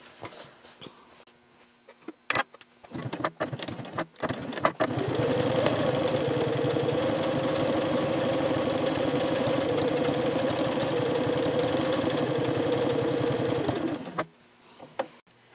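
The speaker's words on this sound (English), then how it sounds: "now I can go ahead and sew down the opposite side of that ribbon" A sewing machine runs in one steady, continuous burst of stitching for about ten seconds, sewing down ribbon on a zip pouch. Brief handling clicks and rustles come before and after the run, with no talking.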